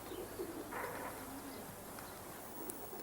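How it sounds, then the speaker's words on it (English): Racing pigeons coo softly in their loft, low murmuring calls repeating under steady background noise. "When it's time for the pigeons to come down, Jim rattles a corn tin."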